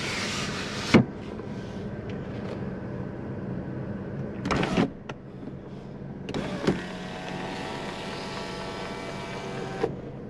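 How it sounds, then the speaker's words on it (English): The electric sunroof of a 2005 Pontiac Sunfire coupe whirs steadily in the cabin as the motor runs, with clunks at the start and the end and a mechanical thump partway through, nearby and without talk. "This car is equipped with a sunroof"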